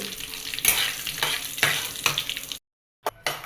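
Coriander seeds, fenugreek, cumin and dried red chillies fry in a hot pan, giving close sizzling with rhythmic stirring scrapes in several bursts, then an abrupt drop to silence broken by two brief crackles.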